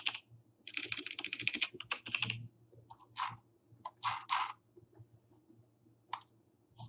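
Quick bursts of typing on a computer keyboard, close and fairly quiet, with clusters of crisp key clicks separated by short pauses.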